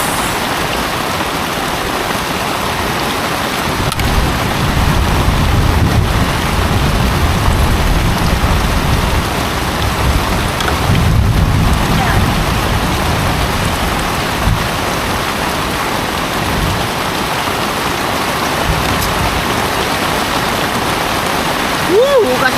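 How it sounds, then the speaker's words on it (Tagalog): Heavy typhoon rain pours steadily on surfaces, a dense constant hiss with low rumbles underneath, close and loud for the whole stretch. "Bagyo nga, bagyo. Dahil malakas ang ulan"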